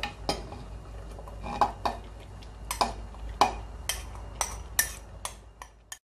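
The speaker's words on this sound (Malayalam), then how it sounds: "നന്നായിട്ടൊന്ന് മിക്സാക്കിയെടുക്കാം." Thiruvathira puzhukku being stirred in a cooking pot after the coconut mix goes in, giving a series of separate metallic clinks and scrapes of a spoon against the pot in a quiet kitchen, with no talk.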